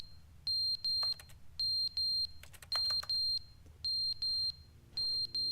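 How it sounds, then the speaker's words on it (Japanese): Electronic alarm beeping in the video game The Stanley Parable: sharp, high-pitched beeps in evenly spaced pairs repeat throughout, loud and steady over a low background hum. "ピーピー言ってるよ。 アラーム？"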